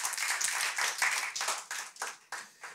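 Church congregation applauding during a Father's Day service, a dense burst of clapping that swells and then fades in several uneven waves, fairly close and without talk.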